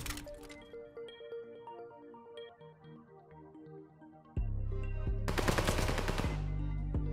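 Gunfire in Call of Duty: Vanguard Hardpoint: scattered game sounds and clicks, then a sudden loud stretch of rapid automatic fire with a dense burst of impacts.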